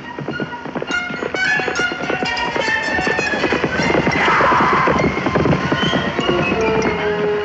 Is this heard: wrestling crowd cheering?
no